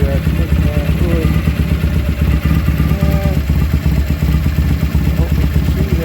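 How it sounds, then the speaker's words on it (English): A freshly rebuilt BSA motorcycle engine runs indoors with a steady, low, moderately loud exhaust thrum, while someone talks over it. "That engine sounds really good. The exhaust note sounds really nice."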